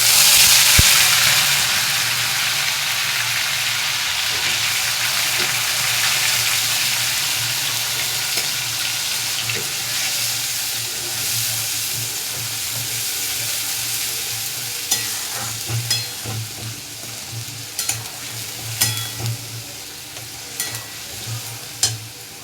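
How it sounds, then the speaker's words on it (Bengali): Onions fry in hot oil in a home kitchen, a steady loud sizzle running throughout with scraping stirs growing more frequent and clattery toward the end, no talking. "পেঁয়াজটা ভাজা ভাজা হোক"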